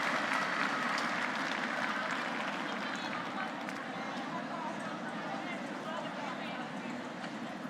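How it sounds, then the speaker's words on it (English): A crowd at a national curling event applauds steadily for several seconds, a dense, even clapping that fills the arena without any talking over it. "the crowd giving a nice round of applause to Reed Carruthers"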